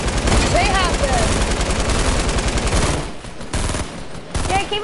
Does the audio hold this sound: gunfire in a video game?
yes